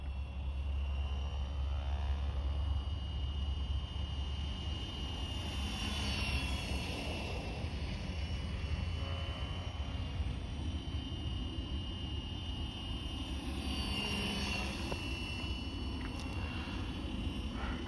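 Flywing FW450L RC helicopter in flight, giving a steady, continuous motor and rotor whine with high tonal hum, holding at moderate distance throughout with no voices.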